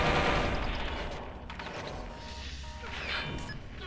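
Gunfire in the Watch Dogs 2 video game sounds as a cluster of sharp shots and crashing impacts over a rumbling bed, with more bursts toward the end and no voices.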